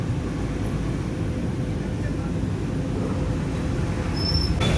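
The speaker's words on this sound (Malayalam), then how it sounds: "ഫ്ലൈറ്റ് പറക്കുകയാണ്" Steady, dense low rumble of engine and cabin noise, continuous and loud throughout with no breaks, like the drone inside a plane in flight.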